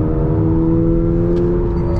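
A 2022 Toyota GR86 sports car on a race track sounds like a loud, sustained engine drone with a steady tone as it holds speed through the corners. No voices are heard.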